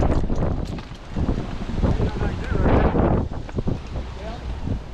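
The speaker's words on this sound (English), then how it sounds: "I warned you guys, I told you it was going to get super windy." Strong wind buffets the microphone in heavy, rumbling gusts, loud and continuous outdoors at a flea market, with voices faintly audible underneath.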